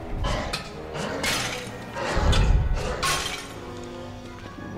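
A pot being smashed in Don't Starve Hamlet, several sharp crashing shatters in quick succession with a heavier thud near the middle, fairly loud over light game background.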